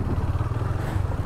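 A KTM Duke 250 motorcycle cruises along the road, its engine a steady, close, low rumble mixed with wind noise.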